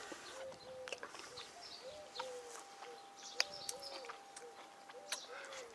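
A turtle dove coos repeatedly outdoors near fir trees in summer, soft rhythmic calls at moderate distance, with other small birds chirping faintly in the background.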